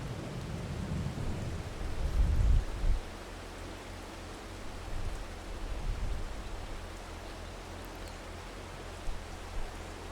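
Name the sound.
heavy rain with thunder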